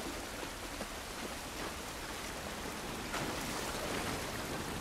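Rain falls steadily in the video game The Last of Us Part I, a dense, even hiss of drops with no talk, fairly quiet and unbroken.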